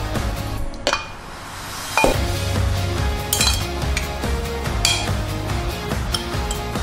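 Steel and ceramic dishes clink and knock as vegetarian lunch boxes are filled with creamy mushroom rice, stir-fried greens, sesame egg and fried tofu, a series of sharp, close clatters and scrapes with no talking.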